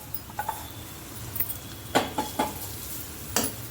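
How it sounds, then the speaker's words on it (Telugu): Gram flour paste dropped into hot oil and stirred, with a low steady sizzle under several sharp spoon scrapes and clinks against the pan, near and fairly quiet. "ఇప్పుడు ఆయిల్లోకి ఈ రుబ్బి పెట్టుకున్న శనగపిండి ముద్ద వేస్తున్నాను"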